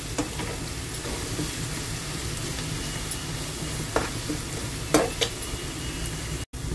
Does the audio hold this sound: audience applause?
no